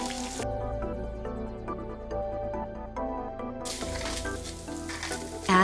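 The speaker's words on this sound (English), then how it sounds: "Add the rice to the heated oil without water and mix." Uncooked rice sizzles in heated oil as it is stirred in a pan, a steady crackling fry with clinks and scrapes of the spoon, fairly close and continuous throughout.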